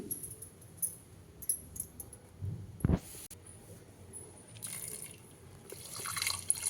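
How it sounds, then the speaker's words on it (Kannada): Water poured in short bursts over lentils in a metal pressure cooker, splashing and dripping, with a louder gush in the middle; close and fairly quiet. "ಅದಕ್ಕೆ 3 ಕಪ್ಪು ನೀರು ಹಾಕ್ತೀನಿ"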